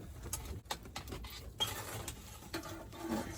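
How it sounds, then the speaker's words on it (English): Clanks and scrapes of a pan of potatoes being pushed into a wood stove in an ice fishing shack, a series of close metallic knocks and shuffles with quiet rustling between them. "Now we'll just put that right into the oven. Well, right into the wood stove."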